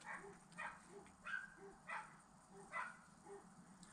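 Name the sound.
dogs barking in the background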